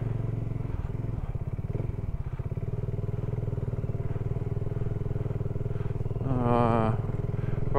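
A BSA 650 Goldstar single-cylinder motorcycle of about 40 horsepower is ridden, its engine thumping steadily and close as wind rushes past, with a rising rev near the end.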